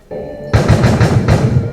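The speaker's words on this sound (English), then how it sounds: "There's kind of like a bit more of a flange, a bit wetter flange." Processed audio with a wet flange effect, built in Unity: a quiet sustained tone, then a loud swelling, sweeping signal from about half a second on, pulsing in a steady rhythm with no talk.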